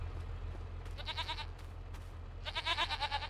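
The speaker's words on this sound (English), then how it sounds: "I can hear the goats." Goats bleating in a Farming Simulator 25 animal pen, two bursts of several quavering, tremulous calls in quick succession over a low steady hum, the second burst louder and closer than the first.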